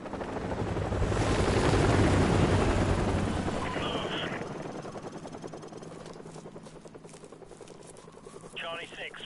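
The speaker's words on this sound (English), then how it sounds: "Enemy helicopters." Helicopter rotor thump swelling loud and close, then fading, in the video game Call of Duty: Modern Warfare Remastered on PS4, with gunfire bursts and voices talking over it.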